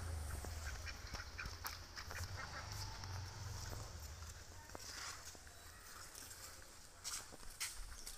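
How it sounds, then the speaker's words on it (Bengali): Many ducks quack in a village, scattered faint calls over a low hum with occasional soft knocks, distant and quiet. "দেখুন কি সুন্দর সুন্দর হাঁস অনেকগুলো।"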